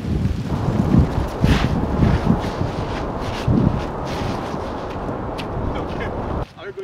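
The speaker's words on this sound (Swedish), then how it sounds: "Gud vad det blåser." Strong wind buffets a microphone outdoors on a cold day, producing loud, continuous rumbling gusts that swell and ease for several seconds before dropping off abruptly.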